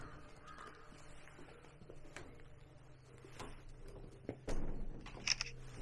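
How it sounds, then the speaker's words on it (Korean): A crow caws at a Korean Buddhist temple, a few faint, sparse calls over quiet outdoor ambience, with a brief louder knock and clatter near the end. "까마귀님이 또 오셨네"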